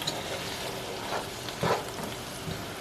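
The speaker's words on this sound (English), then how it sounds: "Give this another stir." Tomato pasta sauce is stirred in a pan over medium-high heat, with a steady, dense sizzle and a few soft scraping swells from the spoon.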